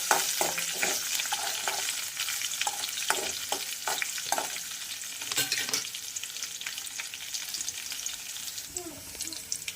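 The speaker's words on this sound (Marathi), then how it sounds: "तर छान पैकी आपल्याला असं फ्राय झालेलं आहे लसण आणि आलं" Garlic and ginger fry in a pan, sizzling steadily and close, with scattered clinks and scrapes of stirring over the hiss.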